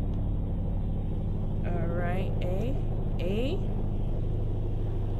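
A car driven in a Roblox video game gives a steady, low engine rumble that runs through the whole stretch, while a person talks over it.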